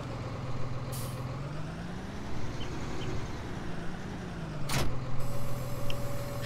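Claas Axion 850 Black Edition tractor driving in Farming Simulator 19, a steady engine drone with rising and falling load tones, a brief sharp air-brake hiss near the end and no talking.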